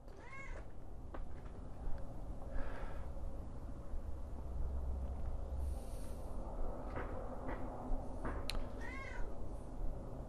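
A domestic cat meows several times, clear and fairly close, with short spaced calls over a low background hum and no talking.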